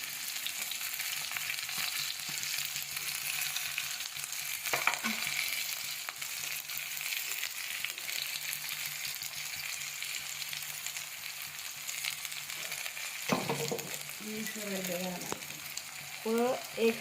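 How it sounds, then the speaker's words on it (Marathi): Onion, curry leaves and green chili crackle in hot oil for a Kolhapuri-style soya chunk and potato curry, a soft, steady sizzle with occasional pops and a voice speaking briefly near the end. "आता मी याच्यामध्ये कांदा घालून घेणार आहे व कढीपत्ता"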